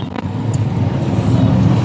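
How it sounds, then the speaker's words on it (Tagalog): An e-bike drives in over steady low road-vehicle hum with no breaks, close and fairly loud, without any voices. "Pasok na diretso ang sasakyan ng e-bike dahil sobrang init."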